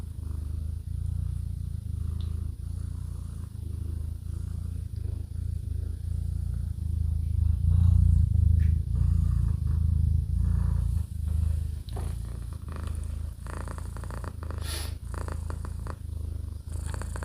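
A female cat purrs close and continuously for over fifteen seconds, a deep rumbling throb that swells louder in the middle, with no voices over it.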